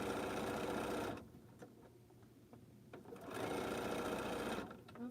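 A home sewing machine stitches a quilt seam in two loud, steady whirring bursts with a quieter pause between them, running alone with no talk.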